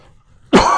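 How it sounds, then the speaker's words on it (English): A single sharp, loud cough bursts out close after near silence, with no talking. "I'll edit the coughing out."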